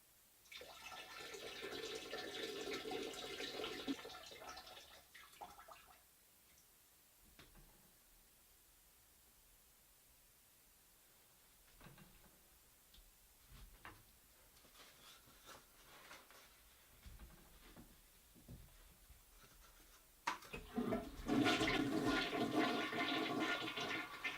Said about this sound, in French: Et voilà, Pascal, comment un homme fait ses besoins